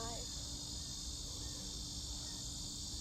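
Insects chirp loudly outdoors in a steady, unbroken high-pitched drone. The sound fills the background and does not stop.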